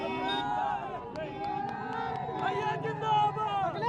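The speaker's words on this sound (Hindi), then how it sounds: "साथ में गाड़ियों का एक काफिला है और लोगों की भीड़ है जगह जगह स्वागत करने के लिए।" Crowds of supporters greet Akhilesh Yadav's rath, heard as a steady hubbub of many voices with shouting and cheering. A vehicle convoy rolls along with them, and people talk over it throughout.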